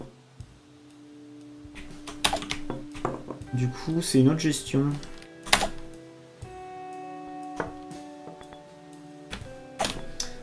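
Laptop keyboard keys pressed while playing the video game Nightsky, giving sharp scattered clicks and taps in short bursts beneath a voice speaking French.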